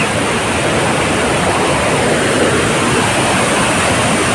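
Devkund waterfall in Similipal National Park, Mayurbhanj, Odisha, pours down in a loud, constant roar of falling water, broadband and unbroken, with no voices heard over it.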